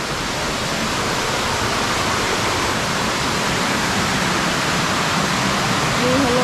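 A river near Mawlynnong rushes steadily below a viewpoint, its broad, loud, continuous roar of flowing water holding constant throughout with no pauses.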